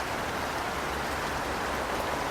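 Steady rain falls and drips from the trees in a quiet outdoor setting, a dense, even wash of patter that holds constant with no voices.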